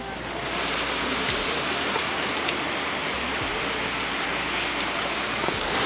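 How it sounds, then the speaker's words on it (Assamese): Heavy rain pours down near a pond, a dense, continuous close hiss of drops that stays loud and unbroken throughout, with no voices. "বৰষুণ এৰা নাই এতিয়া"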